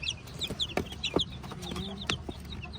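Backyard pet chickens kept by an elderly man cluck softly nearby, with scattered short clucks and high chirps over a low farmyard hum, with no talking.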